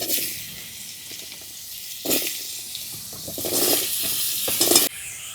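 Potato and kohlrabi pieces hit hot oil with dried chillies and cumin with a loud hiss, then crackle and sizzle steadily as they are stirred in bursts.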